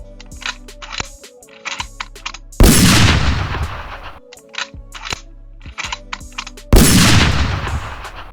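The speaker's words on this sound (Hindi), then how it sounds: "बार बार coking, loading, locking, firing, unlocking तथा इजेक्टिंग का प्रोसेस दोहराया जाता है तथा बार बार इस गन को फायर किया जाता है" An AWM (Arctic Warfare Magnum) sniper rifle fires two loud, booming shots with long decaying tails, each preceded by a run of clicking, clacking bolt-action cocking, loading and locking sounds, in a repeating cycle.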